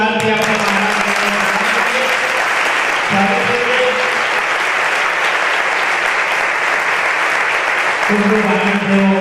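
Devotees clap loudly and continuously at a religious discourse to welcome the Vadtal gadi acharya, dense close applause throughout with music faintly underneath.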